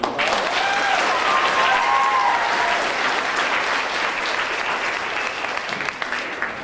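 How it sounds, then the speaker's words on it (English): Loud, sustained crowd applause with a few whoops early on, gradually tapering toward the end. "A big round of applause for her"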